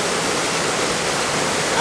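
Water gushes from a supply pipeline at a municipal waterworks. It is a loud, continuous, close roar of rushing water with no voices.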